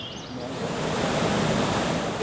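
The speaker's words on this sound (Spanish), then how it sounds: "no somos ricos en tantas cascadas juntas" Several waterfalls in Aragón, a steady broadband rush of falling water that swells slightly and stays continuous and fairly close throughout.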